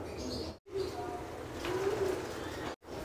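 Pigeons in a loft and aviary give soft, low, drawn-out coos, a few calls close by over a faint background murmur.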